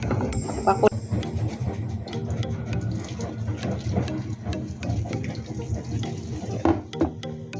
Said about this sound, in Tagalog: itong tubig niya guys ay aalisin ko ito